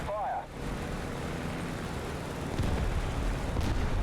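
Tank cannon fire from an M4A1 75mm Sherman in War Thunder, a heavy low boom swelling into rumbling reverberation, loud and sustained through the moment, with a brief voice at the very start.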